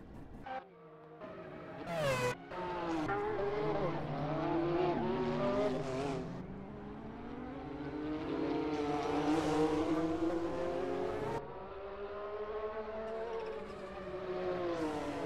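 A Porsche GT1 race car driven in the Assetto Corsa racing game on the Highlands Long track, its engine droning loudly and continuously with rising and falling pitch through gear changes, and a sharp burst near the start.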